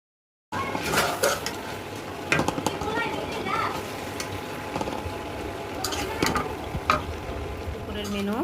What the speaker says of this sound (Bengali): এই যে মাছের মাথা দিয়ে করলা রান্না করছি